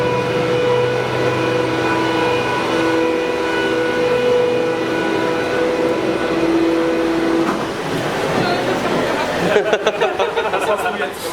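A roller coaster train on the 104-year-old Rutschebanen wooden coaster at Tivoli Gardens rumbles along steadily with a sustained mechanical drone, then shifts to rougher clattering near the end; voices murmur faintly in the background.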